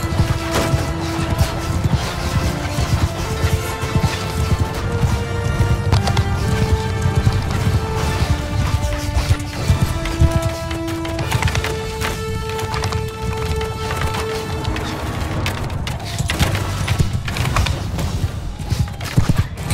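Cavalry horses gallop in a rapid drumming rush during a battle in the video game Bannerlord, loud and continuous beneath a steady musical score.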